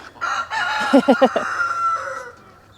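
Free-range chickens in a coop crow and cluck loudly up close, with a rooster's crow breaking into a rapid series of pulsed calls amid surrounding fowl noise.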